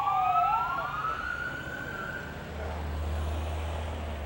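A wailing ambulance siren sweeps up and down in pitch, moderately loud at first and then fading into the distance over a steady low engine rumble, with no voices.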